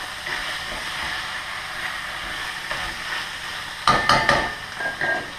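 Ground meat browning for a Provençal moussaka sizzles steadily in a saucepan, a close, even frying hiss joined near the end by a few sharp clinks and scrapes of a utensil against the pan.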